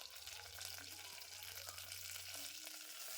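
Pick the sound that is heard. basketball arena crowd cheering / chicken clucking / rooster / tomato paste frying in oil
tomato paste frying in oil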